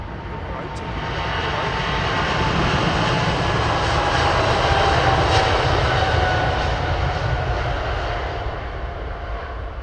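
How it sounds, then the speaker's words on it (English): A Boeing 787 Dreamliner jet arriving at London Heathrow Airport in fog makes a broad, steady engine roar that swells to a peak and slowly fades, heard from a distance. "We've got a Dreamliner and a triple Northern runway arrival."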